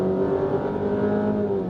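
A 2020 Jeep Cherokee Limited 4x2 engine revs hard under full-throttle acceleration, a steady, loud, droning roar that holds throughout, heard from inside the car with no talking.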